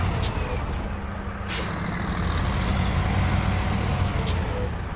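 MAZ 538 heavy truck reversing in SnowRunner, a steady low engine drone with air-brake hisses bursting near the start and middle, under continuous rumble.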